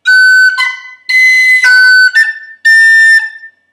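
Bright, close tin whistle notes play the first phrase of the Irish tune The Connachtman's Rambles, tongued and slurred in a lilting pattern of four note groups with short gaps, loud and unaccompanied.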